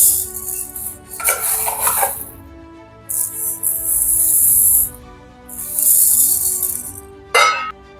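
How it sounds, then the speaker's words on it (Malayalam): Idli rice being poured into a vessel holding urad dal: several close bursts of dry grains rushing and hissing as they hit the container, separated by short pauses with light clinks of a measuring cup. "ഇനി നമ്മൾ ഇടാൻ പോകുന്നത് ഇഡ്ഡലി റൈസാണ്"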